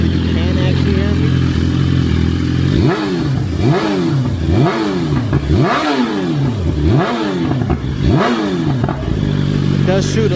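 A 2026 BMW S1000RR sport bike with its stock exhaust revs hard and close, five or six sharp climbing blips over a steady idle, with clattery mechanical noise around them.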